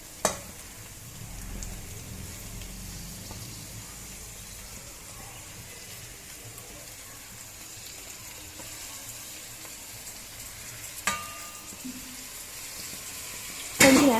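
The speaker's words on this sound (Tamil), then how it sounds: "நல்லா வதக்கி விட்டுருங்க." Chennai-style biryani masala with tomato sautéing in a pan, a steady soft sizzle with occasional stirring clinks and scrapes, close and without talk.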